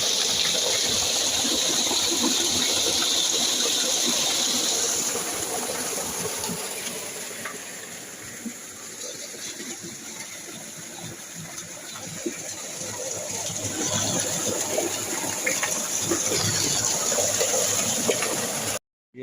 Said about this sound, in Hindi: इधर ट्यूबवेल चलाया हुआ है